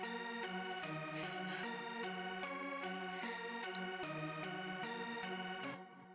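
A synth lead plays alone in a repeating rhythmic melodic pattern, bright and sustained, steady and fairly quiet before cutting off near the end.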